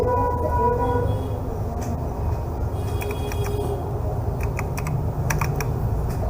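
Someone types on a computer keyboard: a few scattered key clicks, then a quick cluster of presses ending in a final tap, over a steady low hum.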